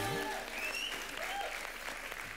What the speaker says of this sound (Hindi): एक बार जोरदार तालियां कृष्णा के लिए